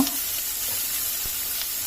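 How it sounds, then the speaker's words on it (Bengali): Hilsa fish pieces frying in hot oil beside brinjal slices in a pan, a steady close sizzle with faint crackles throughout and no talking. "এর ভিতরে আমি আবার মাছগুলোকে দিয়ে দিলাম"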